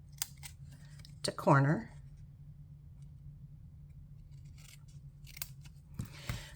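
Scissors snip through paper card stock for a handmade card, giving one crisp close cut followed later by a few lighter snips, with quiet talk in between.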